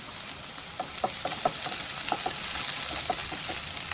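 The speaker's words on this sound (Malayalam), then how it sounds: "ഇതിലോട്ട് ഹോൾ സ്പൈസസും സവാളയും ഇഞ്ചിയും എല്ലാം ചേർത്ത് വഴറ്റിയെടുക്കാം" Whole spices, onion and ginger sauté in hot ghee, a steady sizzle with light stirring clicks and taps running close and moderately loud.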